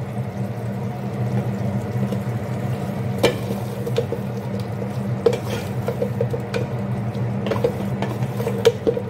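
Potatoes frying in hot oil in a pot for beef curry, a steady low sizzle with occasional scrapes and clinks as they are stirred, fairly close and moderately quiet.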